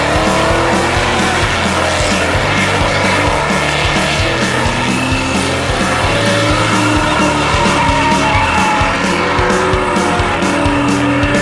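Cars drift around a Powercruise track, tires squealing in long wavering shrieks layered over roaring, revving engines, loud and continuous throughout.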